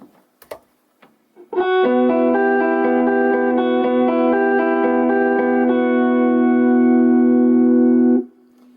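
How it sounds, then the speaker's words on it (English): Clean electric guitar picks out a short melodic line, notes clear and direct without echo or shimmer, ringing out before stopping; a few small clicks precede it. "Through the dry side only, with no modulation or delay"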